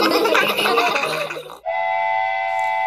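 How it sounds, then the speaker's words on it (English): A toy-like train sound effect for a children's audiobook: busy rolling rail clatter for about a second and a half, then a steady sustained whistle tone that holds to the end, loud and clear with no talking. "the train rides on the track, sing the children"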